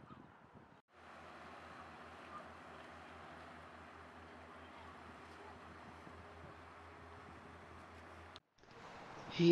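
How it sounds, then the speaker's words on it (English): A passenger ferry crossing the river from North Shields to South Shields, with a steady low engine drone and broad wind and water noise running continuously, briefly cut near the end. "today we're going to be riding the Shields Ferry from North Shields to South Shields"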